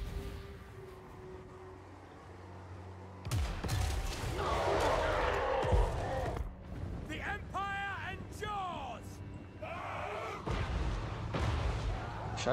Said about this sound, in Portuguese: Chatinho esse canhão deles